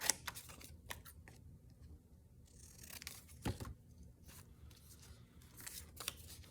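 Quiet, close snipping of scissors through paper, a series of crisp irregular cuts with soft rustling between them.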